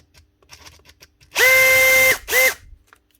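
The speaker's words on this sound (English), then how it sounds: "Sounds like there's a bearing gone, or at least it's rubbing." A worn Makita DHP483 compact cordless drill with a rubbing bearing runs in two bursts, a long whine then a short one, with a rough grinding edge, preceded by a few faint clicks and handling taps.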